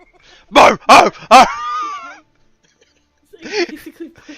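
A human voice imitates a sad dog, giving three short barking yelps followed by a drawn-out whine, then a softer whimpering sound after a brief pause, close and clear.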